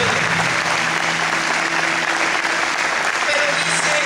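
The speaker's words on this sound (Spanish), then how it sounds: "Denle un aplauso al Señor." A church congregation applauds during a sermon, a continuous loud wash of clapping with scattered voices and cheers mixed in.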